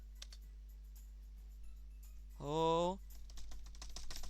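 Keyboard typing comes in light, scattered key clicks, faint and close, broken by a short spoken exclamation partway through, with a steady low hum underneath.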